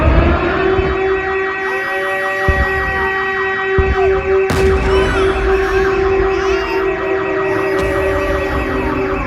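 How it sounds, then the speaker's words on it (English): Air raid siren sounding in Ukraine during the war, a loud, steady electronic tone held without a break for the whole stretch, with faint rising and falling overtones. "the shriek of sirens slicing through the air, warning you that death is coming."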